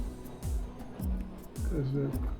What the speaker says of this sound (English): sound you hear sounds like rain on the roof, but I think it's just the wind